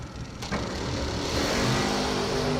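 A race car engine roars steadily on a track, loud and close, with a brief sharp burst near the start and the engine note holding strong afterward.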